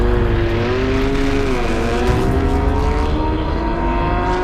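A finely tuned world-record motorcycle roars loudly across a dry lake bed, its engine pitch holding steady then climbing as it accelerates away, with no voices over it.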